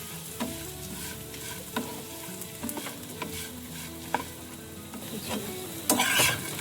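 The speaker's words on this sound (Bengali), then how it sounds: "ঘিটা গরম হয়ে গেলে তাতে দিয়ে দেব কিছুটা কতিলা কতিলাটাকে হালকা করে আমরা ভেজে নেবো" Kotila (tragacanth gum) frying in hot ghee gives a soft, steady sizzle with occasional sharp clinks of a stirring spoon, close and fairly quiet, with no talking.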